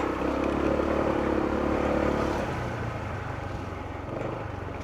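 A motorcycle engine runs steadily at close range during heavy rain in Benguet, amid the risk of landslides, and its tone drops to a lower, softer hum about halfway through.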